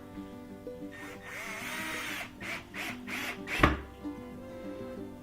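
Cordless power drill driving screws into a wooden chicken coop panel, a few short whirring bursts with a sharp clunk near the end, close and moderately loud over a faint background.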